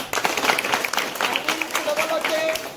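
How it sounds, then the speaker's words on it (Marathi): A crowd applauds loudly at a ceremony for a dhol-tasha drum troupe's practice event in Bhor, a dense burst of many hands clapping together close by, with a voice speaking over it. "सगळ्यांनी पहिल्यांदा टाळ्या वाजवा जोरात"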